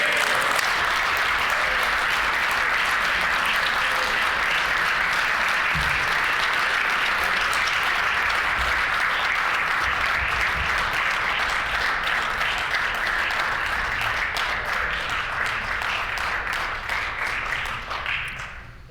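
Sustained applause fills a legislative assembly chamber, a dense continuous wash of clapping from many members that holds steady at full strength before tapering slightly at the end.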